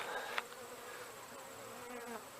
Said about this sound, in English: My bees are active.